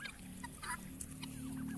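Mixed poultry flock with older, larger ducks kept alongside turkeys, guinea fowl and muscovies, giving steady close honking and quacking calls over a constant background hum.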